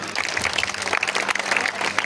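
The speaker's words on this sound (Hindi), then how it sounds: "एक बार जोरदार तालियां" Audience applause at a Hindi kavi sammelan poetry gathering, steady dense clapping throughout, fairly loud and close with no talk over it.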